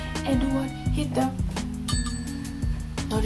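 A bright notification bell sound effect rings out in several quick chiming strikes over a steady musical backing, clear and fairly loud.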